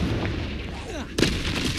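Confringo fire spell in the Hogwarts Legacy video game, a sudden booming blast just past the middle of a short stretch of softer magical whooshing and rumble.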